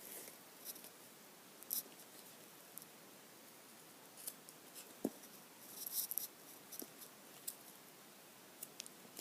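Scissors trim through duct tape while a bifold wallet is made, giving faint, sparse snips and crinkles close to the mic over a quiet, hissy background, with no talking.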